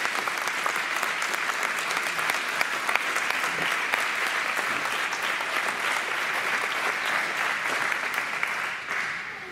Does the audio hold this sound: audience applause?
yes